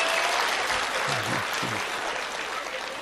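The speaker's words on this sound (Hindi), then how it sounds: "हाँ ताली बजाओ, हाथ उठा कर।" An audience at a relationship talk claps steadily and densely in a sustained round of applause, with a voice briefly heard beneath it.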